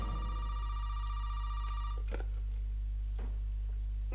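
A telephone rings in the horror video game Resident Evil 7, a steady electronic tone repeating over a loud low hum, with faint clicks and knocks around it.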